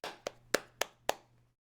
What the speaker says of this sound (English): let's give our conversants a round of applause.